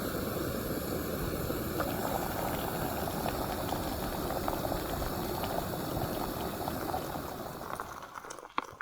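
Boiling water pours steadily into a dehydrated backpacking meal pouch in the wilderness, a continuous close gurgling rush that runs for several seconds, then tapers off and stops near the end.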